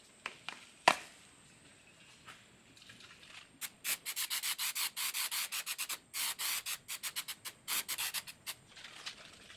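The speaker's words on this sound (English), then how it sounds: "stainless scouring pad" Stainless scouring pad scrubbing black paint off a rusted barn-find car quarter panel after graffiti remover, a rapid run of close, rhythmic rasping strokes in bursts with short pauses, no talking.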